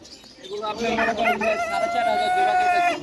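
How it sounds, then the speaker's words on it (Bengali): Silkie chickens at a pigeon market cluck and give crowing calls up close, with other birds chirping and people's voices mixed in around them. "এখানে সিল্কি মুরগির দেখা পাইলাম"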